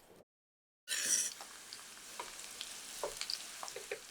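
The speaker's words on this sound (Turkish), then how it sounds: "Biraz soteleyin." Onions sizzle steadily in a hot frying pan after a brief silence, with small crackles and pops over a continuous hiss, close up.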